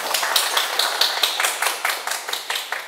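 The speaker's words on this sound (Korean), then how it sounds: "이분 잘 해결됐다고 이렇게 우리 큰 박수 부탁드립니다." An audience at a Sunday lecture gives a short burst of applause, rhythmic and fairly loud. Clustered claps land in an even, beat-like pulse, with no talking.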